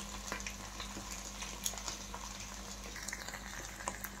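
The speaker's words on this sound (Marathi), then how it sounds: "1 ते 2 मिनिट ह्याला मी व्यवस्थित परतून घेतलेलं आहे" Paneer roll filling with chili flakes being sautéed in a pan gives a soft, continuous sizzle with light scraping stirs, faint and close, with no talk.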